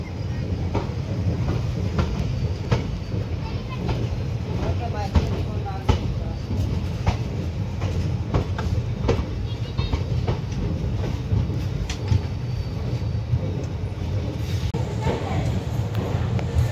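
A passing train, reportedly the Lalgarh to Prayagraj service, seen from an Indian railway journey, gives a steady rumble with repeated clickety-clack wheel knocks throughout, fairly close and loud, with no talking.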